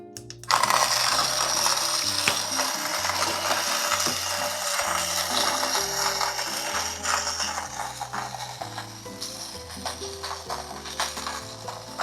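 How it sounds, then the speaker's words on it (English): A small CF Wisdom manual coffee grinder, about phone-sized, grinds beans with a continuous close gritty crunching and ratcheting rasp, steady and dense throughout with rhythmic grinding strokes and no talking. "let's see how long will it take to grind the coffee"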